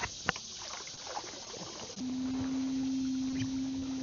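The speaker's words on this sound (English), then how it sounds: "This is the shallowest drafting motor I think I've ever used." An ePropulsion kLite 750 electric kayak motor starts up partway through and runs with a steady, loud electric whine in shallow water, over faint background water and ambient noise.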